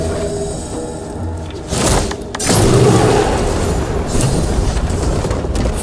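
A deep booming explosion blasts a device apart in Baldur's Gate 3, a swelling low rumble that surges loud and lingers through the whole stretch without any voices.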